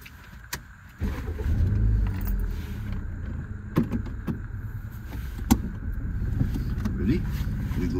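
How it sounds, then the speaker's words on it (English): A car engine cranks and catches at the start of a driving mock test on Wadi Kabir Road in Oman, then settles into a steady near idle. Clicks and thumps from inside the cabin come through, and faint voices are heard. "Start engine."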